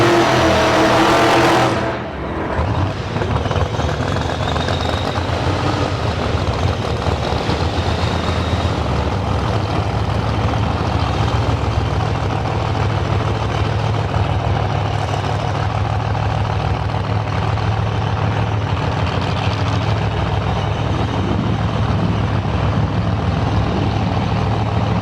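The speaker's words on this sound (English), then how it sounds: "There's two cars coming out of the water box area." Drag racing cars on a strip during a Radial versus the World event pull out of the water box, a loud steady engine drone with a sharp burst at the start, close and continuous with no talk.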